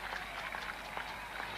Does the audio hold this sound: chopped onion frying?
no